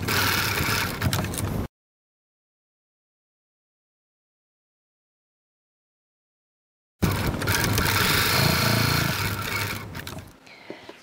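A sewing machine runs steady 3.3 mm stitches through wallet leather, 3 mm from the edge, in two continuous whirring bursts separated by a long silent gap.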